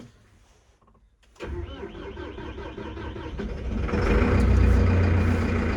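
A Massey Ferguson tractor engine cranks after a quiet moment, catches and settles into a rumbling idle that grows louder and rougher, with someone speaking briefly under it.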